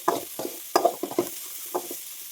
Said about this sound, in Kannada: ಅದನ್ನು ಹಾಕ್ತಿದ್ದೀನಿ ಇವಾಗ ಫ್ರೈಗೆ. ಇದನ್ನು ಕೂಡ ಫ್ರೈ ಮಾಡ್ಕೋಬೇಕು.